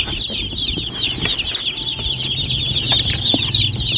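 Newly loaded baby chicks in a brooding setup on a poultry farm, a dense chorus of high, continuous peeping from many birds close by, with no talking over it.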